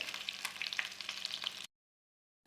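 Cauliflower and chicken balls frying in hot oil give a busy crackling sizzle with small pops, close and moderately loud, then cut off abruptly into silence before faintly resuming.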